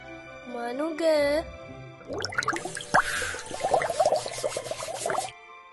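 Water running from a bathroom tap while someone brushes their teeth in an animated scene: a steady splashing, trickling stream, near and moderately loud, following a short high-pitched voice.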